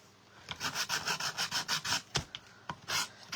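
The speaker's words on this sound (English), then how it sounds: "I'll just sand that off. This is 60 grit, so that'll scuff it up pretty good." Coarse 60 grit sandpaper rubs over a painted wooden tag in quick back-and-forth strokes, a steady scratchy rasp that is close and fairly loud, followed by a few sharp separate scrapes and one last longer pass.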